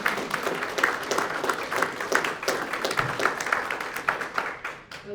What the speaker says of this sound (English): big round of applause for our guests